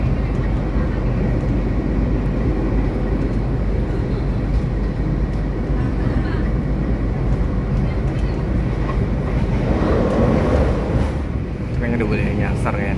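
The KA Sancaka train at its 120 km/h cruising speed, heard from inside as a loud, steady rumble and roar of wheels on track with wind noise running throughout.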